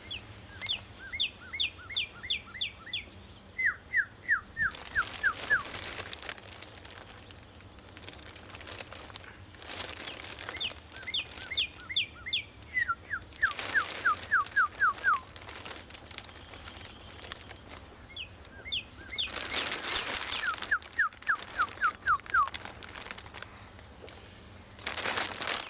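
Birds singing outdoors beside a garden plot: repeated bright chirping phrases and trills recur every few seconds, fairly faint and distant, over a low steady background with occasional rustling bursts.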